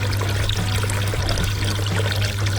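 Water gushes steadily from the outlet of a Dnipro-M drainage pump, a loud continuous splashing pour that runs unbroken for the whole stretch, with a low steady hum underneath.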